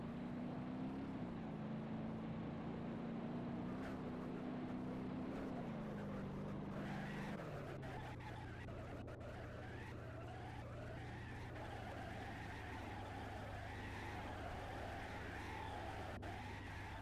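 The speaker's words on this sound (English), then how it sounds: "now just hit it from the side, first up being BeamNG Drive" A car driven in BeamNG Drive, its engine droning loudly and steadily throughout, pitch dropping after about seven seconds into a lower rumble with scraping, clattering impact noise; no single sharp crash stands out.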